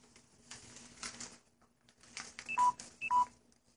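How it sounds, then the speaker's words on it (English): Two pairs of short electronic beep tones ring out clearly, following a stretch of faint rustling and handling noise with no talking. "And my phone is beeping."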